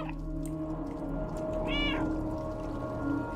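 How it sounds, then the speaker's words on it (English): Cats in the video game Stray meow once, clear and close over a steady ambient game soundscape, with no voices. "They're meowing for you."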